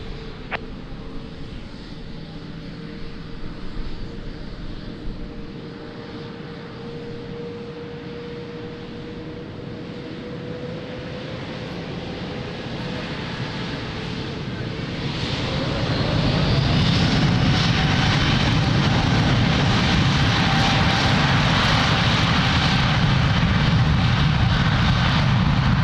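A heavy airliner takes off from runway 02 at Lisbon Airport, its engine roar steady at first, then swelling louder and broader as it powers down the runway.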